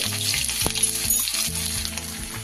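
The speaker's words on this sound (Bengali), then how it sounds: "তেল গরম হলে তেজপাতা আর জিরে ফোড়ন দিয়ে দিচ্ছি এইবার ফোড়নের ওপর গ্রেড করা আদাটা দিয়ে দিচ্ছি" Grated ginger dropped into hot oil already tempered with bay leaf and cumin seeds, sizzling and crackling steadily up close, with a few soft stirring clicks and no talk.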